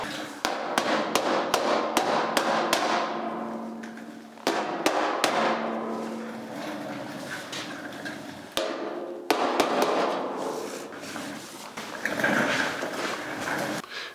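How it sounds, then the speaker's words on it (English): A hammer strikes the metal lower front fascia panel of a 1974 Charger in bursts of sharp, ringing blows, loud and close, with short pauses between the runs of hits and no talk. "hammer that out, be right back."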